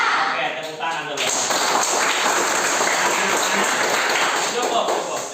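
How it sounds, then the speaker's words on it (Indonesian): Classroom applause, a dense burst of many small hands clapping that begins after a second and carries on steadily to the end, with young voices mixed in. "Oke, tepuk tangan dulu."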